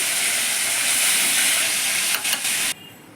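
Pomfret fish fries in hot oil with a loud, steady hissing sizzle close up, broken by a few brief clatters before the sizzle suddenly drops to a much quieter hiss at the end.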